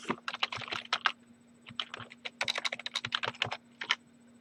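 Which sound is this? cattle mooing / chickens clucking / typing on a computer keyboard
typing on a computer keyboard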